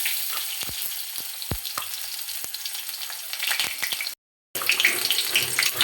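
Chopped onions and cumin frying in oil in a pan for an egg bhaji dish, a dense close sizzle with scattered sharp crackles and pops, briefly cutting out before returning louder.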